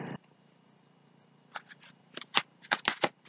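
A deck of tarot cards is shuffled close by, with a few short, crisp riffling and flicking bursts in the second half after a brief quiet stretch.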